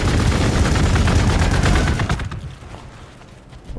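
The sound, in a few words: Space Marine gunfire in Warhammer 40k Gladius video game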